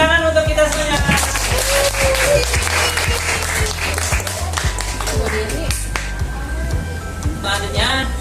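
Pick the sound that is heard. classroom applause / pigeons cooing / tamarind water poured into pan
classroom applause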